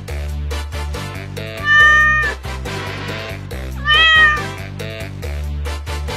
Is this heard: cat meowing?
yes